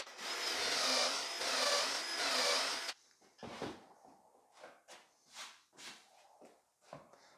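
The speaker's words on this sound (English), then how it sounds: "So let's go ahead and pre-drill the rest of those." Power drill pre-drilling holes in wood panels, a loud steady whir for about three seconds, then a series of short, quieter bursts and knocks of handling and tool noise around the workshop.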